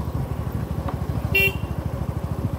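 A motorcycle engine putters steadily at close range with a fast, regular low thump, and a short horn toot sounds midway.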